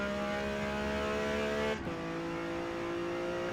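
Ferrari Dino engine on a qualifying lap at Indianapolis in the Forza Motorsport racing game: a steady, droning engine tone that holds, briefly dips as if shifting gear, then carries on at a lower pitch, with no talk.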